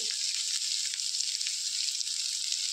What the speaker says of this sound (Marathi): आता चांगली मटकी भाजून घ्यायची